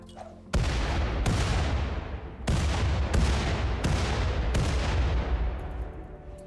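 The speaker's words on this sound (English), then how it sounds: "We can have the new colonist Dragon carrying a few items outside and try to destroy them with grenades." Several heavy grenade blasts in RimWorld destroying items outside a colony, about five loud booms spaced roughly a second apart, each with a long rumbling decay, with no talking.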